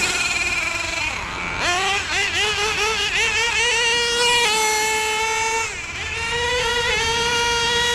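An HPI Savage nitro RC truck with a sway bar kit and locker fires up, its small engine buzzing high and loud, with revs that rise and dip repeatedly and a brief drop in pitch before the engine climbs again.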